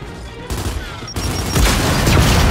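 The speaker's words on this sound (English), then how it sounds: "keep your head down and blind toss a grenade" A grenade detonates during a Gears 5 training session amid heavy gunfire, a loud booming blast among sustained shooting.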